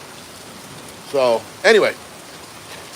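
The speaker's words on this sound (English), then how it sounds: "you can hear the hail hitting the top of the tin roof" Hail pelts a tin roof during a storm in Barnsdall, Oklahoma, making a steady, hissing rattle throughout, while someone briefly speaks over it.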